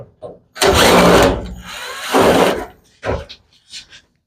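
Power drill backing screws out of a Samsung dryer panel, in two long loud whirring bursts followed by a few shorter quicker ones, close up and on its own without talk.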